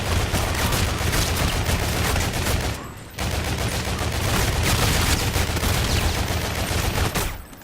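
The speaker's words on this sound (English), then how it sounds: "It fires differently, it sounds really different." The Volk rifle fires in Call of Duty: Infinite Warfare zombies mode, producing loud, continuous rapid automatic fire. The burst breaks off briefly near the middle, resumes, then ends, with no voice over it.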